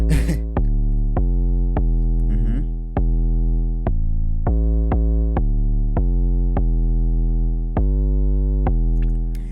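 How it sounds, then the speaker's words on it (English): Stock 808 trap bass from Logic for a simple afrobeat, a deep sustained tone re-struck about a dozen times in an uneven rhythm, each note booming loud and close before decaying, with no other instruments. "So this is the bass. It's 808 trap bass."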